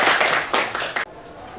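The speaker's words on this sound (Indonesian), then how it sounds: "tepuk tangan untuk Ilham" A short round of classroom clapping for a student during a lesson, a few brisk bursts of claps that stop abruptly after about a second.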